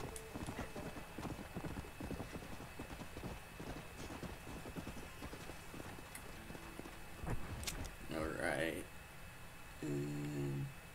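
Horse hooves clip-clop in a steady rhythm while a rider travels in the Western video game Red Dead Redemption, with a man tied up across the horse's back; a voice talks over the hoofbeats throughout.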